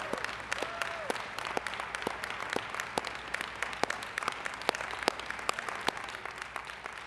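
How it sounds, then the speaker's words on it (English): An audience at a college student academic excellence awards ceremony claps steadily, with crisp individual hand claps standing out over a dense, even wash of applause that holds for several seconds. "Give a round of applause."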